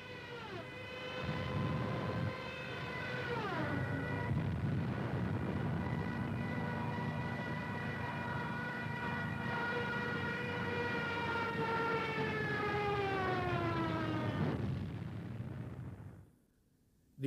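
A Stuka dive bomber attack in a wartime film: a loud, sustained wailing siren-like scream that bends downward in pitch as the plane dives, over a heavy roaring rumble of engine and explosions, cutting off abruptly near the end.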